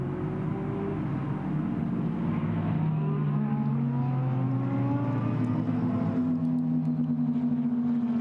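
A GT race car in the Blancpain GT Sports Club accelerates through the final corner toward the checkered flag at Paul Ricard, its engine note rising steadily and droning loudly under a commentator's faint background.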